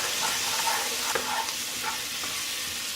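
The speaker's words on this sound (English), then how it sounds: "Alright, we'll stir all that in." Cloves and mustard seed being stirred into a braising beef bottom round roast in an oval roaster, a steady sizzle with soft scraping spoon strokes, close and continuous, no speech.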